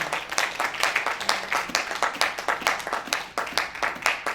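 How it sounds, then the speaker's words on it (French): A church congregation claps in steady rhythm at a Pentecost service, a sustained run of many hands striking together. "Clap for the Lord, amen."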